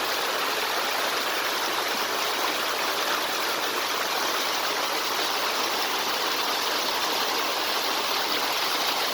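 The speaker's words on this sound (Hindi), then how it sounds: "पानी की आवाज़ आपको आ रही होगी।" A stream of clear water in a hidden spot in Lodi Khel, Kachayi, Khyber Pakhtunkhwa, Pakistan, rushes with a constant, even hiss, close and fairly loud, with no voices over it.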